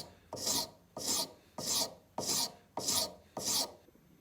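A hand file rasping across cellulose acetate in six even, deliberate forward strokes with brief pauses between, each a close, bright scraping sweep.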